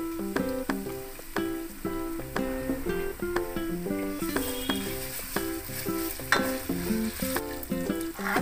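Chopped onions and ginger paste fry in a pan for a chicken dish, giving a steady close sizzle broken by the regular clink and scrape of stirring.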